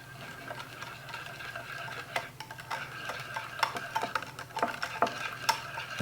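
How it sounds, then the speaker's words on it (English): Barbecue rub being stirred into a quick homemade barbecue sauce, a spoon scraping and clicking against the pot in an irregular rhythm, growing busier toward the end, close and moderately loud. "A little bit of that rub. All right, and let's stir that in."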